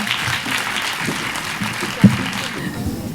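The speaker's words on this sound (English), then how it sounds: "Would we please have a big round of applause for them?" An audience at a school day function claps for the in-house teachers, a full steady round of applause filling the auditorium for a few seconds, with one sharp thump near the end.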